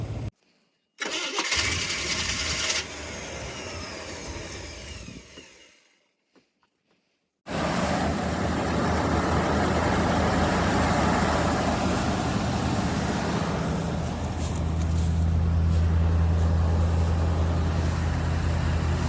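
A Chevy-powered 1983 Jaguar being jump-started: a short burst of cranking cuts off to silence, then the engine catches and settles into a loud, steady idle with a rising low rumble toward the end.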